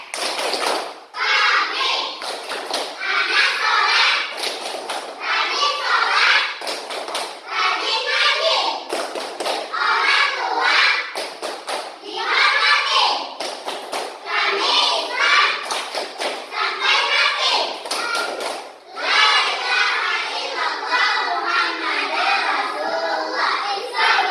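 A class of children clapping their hands in a rhythmic chant, with fast, loud and irregular claps mixed with children's voices chanting along for the whole stretch.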